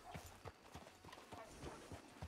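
Horse hooves clip-clop in the video game Red Dead Redemption II, a quick, even run of soft, close hoof strikes with voices murmuring faintly underneath.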